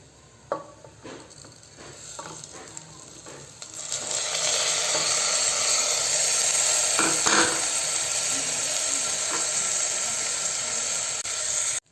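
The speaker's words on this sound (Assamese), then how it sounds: "চাউলখিনি পিয়াজখিনি সৈতে ভালকৈ ভাজি লম" Rice and browned onions fry together in a hot pan for a pulao, a steady loud sizzle building after a few quiet seconds of stirring clinks and lasting to the end, with no talking.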